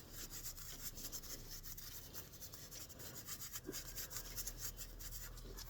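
A brush scrubs dye into a turned wooden ornament, giving a steady, close, dry rubbing and scratching texture that runs continuously with small rhythmic strokes.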